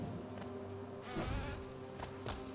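A steady insect-like drone of buzzing bees in Hollow Knight runs throughout at low level, with a brighter swell partway through and faint game sounds around it.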